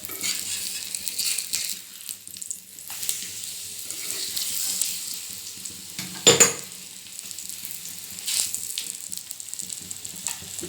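Egg paratha frying in a pan for breakfast gives a steady low sizzle with stirring and scraping, then a sharp metallic clatter of utensil on pan midway before the hiss settles again; no voices.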